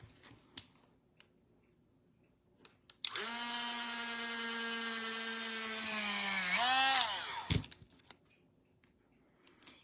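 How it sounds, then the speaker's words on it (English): A power drill bores holes in a toy glider for zip ties, with a loud, steady, high-pitched whine for about four seconds that climbs before it cuts off, then quiet handling clicks. "Or you can just drill them all at once and then just clean them all at once."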